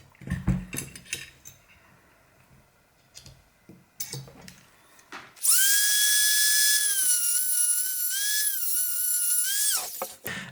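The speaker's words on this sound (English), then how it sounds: "I'm gonna Dremel it" A Dremel rotary tool grinds small nubs on an AEP airsoft barrel, letting out a loud, high, steady whine for about five seconds with slight shifts in pitch, after quieter clicking and handling sounds.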